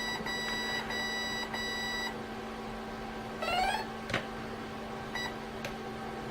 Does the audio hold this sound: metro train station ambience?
no